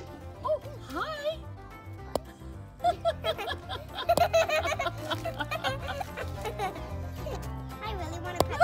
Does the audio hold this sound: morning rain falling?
no